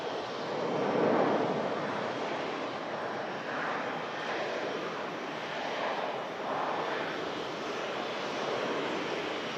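A Qatar Airways Boeing Dreamliner taxis out at Manchester Airport, its engines giving a steady, broad rumbling roar at moderate distance that rises and falls slightly with the wind, with no voices.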